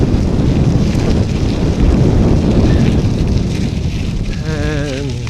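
Loud, buffeting wind rushes through a rail-trail tunnel on the Hoover Dam Historic Rail Trail near Boulder City, Nevada, roaring steadily against the microphone for the whole stretch with no pause.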